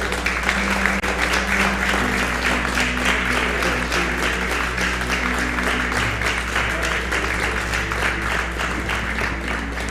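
A church congregation applauds loudly and continuously at an evening service, dense clapping filling the space with a steady low hum beneath and faint crowd voices mixed in.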